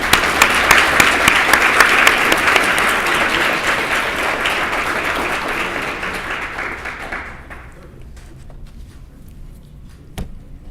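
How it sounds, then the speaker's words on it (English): An audience at a student employment award ceremony applauding the nominees, a dense burst of clapping that gradually thins and fades out, leaving a few stray claps and a single thump near the end. "We can applaud."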